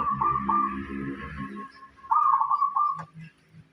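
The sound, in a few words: local zebra dove (perkutut) cooing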